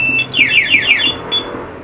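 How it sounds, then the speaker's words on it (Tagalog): A two-way car alarm, being set up without triggering a check-engine light, goes off with a rapid run of rising electronic chirps and a few repeats, then a brief steady beep, loud and close, with no talk. "Ayan, nag-alarm kagad oh."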